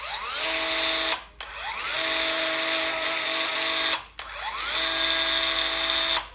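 A homemade belt drum sander powered by a Ryobi 18V cordless drill whines loudly in three long bursts, each starting with a rising motor pitch and cut by brief pauses, close and with no speech.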